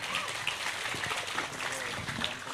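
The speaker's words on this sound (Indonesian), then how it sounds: "Tepuk tangan untuk mereka." A student audience at a vocational health school in Bantul claps for fellow students. The applause is faint and dense, with voices talking over it.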